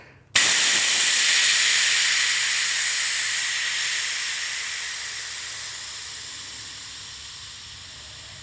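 Air rushes out of a bicycle tire's Schrader valve in one loud, continuous hiss that starts abruptly and slowly fades over several seconds, close up with no talking.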